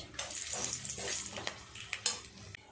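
Whole spices, two bay leaves with cinnamon, cloves and cardamom, tempering in hot oil for a home-cooked mutton curry; a steady sizzle with scattered crackles, stirring and a few pan clinks, close and fairly quiet with no talk.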